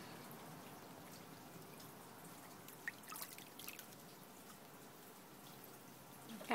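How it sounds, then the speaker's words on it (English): A baby swimming in a pool stirs faint water splashes and dribbling trickles, soft and close, with a few slightly sharper splashes scattered through. "Splash."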